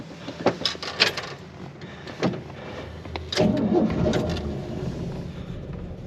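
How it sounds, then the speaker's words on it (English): A 1957 Chevy Bel Air is started after a few clicks and cabin handling sounds; the engine cranks and catches into a steady, moderately loud idle that carries on to the end. "we'll go ahead and fire it up."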